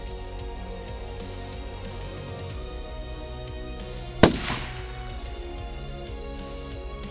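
FPV drone strike on two walking soldiers, a single sharp, loud blast midway through, standing out against a steady low background hum and briefly trailing off.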